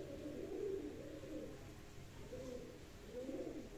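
Pigeons coo in a loft in soft, low, rolling calls that come in three or four phrases, fairly close and not loud, over a faint background hum.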